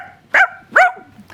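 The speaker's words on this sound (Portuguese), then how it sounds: "Ô, cachorro!" A white dog gives two sharp barks, close and loud, spaced about half a second apart, with a faint start of a third at the end.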